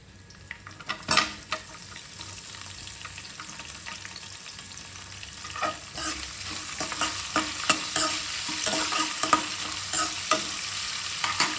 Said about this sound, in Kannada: ಈಗ ನೋಡಿ ಈರುಳ್ಳಿ ಒಂದು ಅರ್ಧ ಫ್ರೈ ಆಗಿದೆ